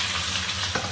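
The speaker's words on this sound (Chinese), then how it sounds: "先下这个香干在锅里煎一下，口感会更好一点" Dried tofu pieces fry in a lightly oiled pan over low heat, giving a steady soft sizzle throughout with a brief louder crackle near the end; no one speaks.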